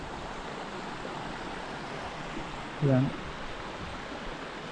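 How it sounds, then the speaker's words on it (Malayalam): A small stream of the Panayam river at Ozhukupara gives a faint, steady flow of water throughout, with one short spoken word partway through. "അതിൻ്റെ കുഞ്ഞൊരു തോട് ഇങ്ങനെ. അത് പാണയത്ത് പുഴയാണ് കേട്ടോ."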